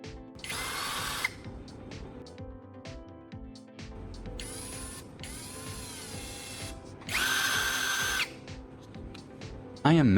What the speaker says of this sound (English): I am mounting the carbon rod to the electric drill. I will sharpen it with sandpaper